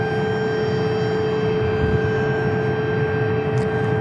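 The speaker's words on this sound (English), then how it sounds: "There goes our Las Vegas departure from Tucson." An airliner bound for Las Vegas departs Tucson International Airport, its engines producing a steady, loud roar with a constant tonal whine throughout, without voices.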